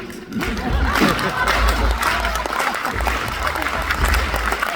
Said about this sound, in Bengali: এই হাততালি দিতে হবে